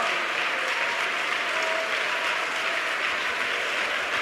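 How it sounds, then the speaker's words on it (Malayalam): Congregation clapping together during a church service, a steady dense wash of applause that fills the whole stretch without pause, fairly loud and even, with no talking over it. "കൈയടിക്കാൻ മറന്നു പോകണ്ട"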